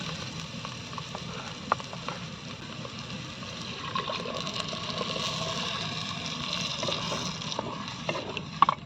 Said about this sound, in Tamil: நீ மோர் ஊற்றிக்கலாம்.